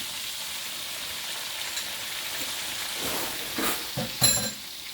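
Pieces of fish frying in hot oil with melted butter added, a steady dense sizzle and crackle throughout, swelling with a few louder bursts of spatter near the end, no voices.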